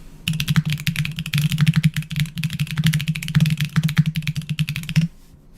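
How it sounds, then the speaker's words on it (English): Fast, forceful typing on a computer keyboard, a dense run of sharp key clicks over a low thudding layer, loud and close, stopping abruptly near the end. "That felt like really strong typing there."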